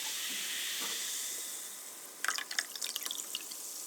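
Pom pomegranate juice poured into a mug, a soft gurgling liquid splash with bright dripping streams starting partway through, over a steady background hiss.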